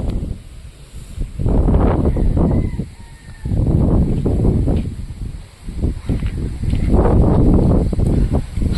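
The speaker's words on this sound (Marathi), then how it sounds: "जोरदार हवा चालू आहे" Strong gusts of wind roar and buffet in waves, rising and falling several times with rustling, no voices.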